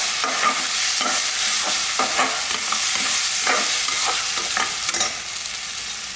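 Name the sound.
stirring and sautéing pongal ingredients with salt in pot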